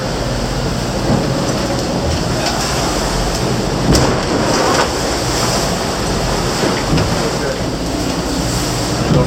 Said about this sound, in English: Now it's gonna be nasty the waves here.